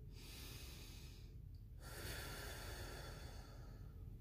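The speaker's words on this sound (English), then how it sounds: "On the count of three, we're going to take our deep breath" Several people draw a deep breath together in a quiet room, a soft airy inhale that swells for about a second and a half, then a brief pause before a gentle exhale.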